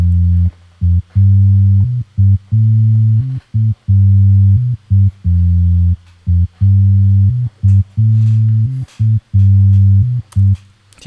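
A reggaeton beat made in FL Studio: deep, booming bass notes pulse in a choppy syncopated pattern, with faint percussion ticks above, loud and repetitive.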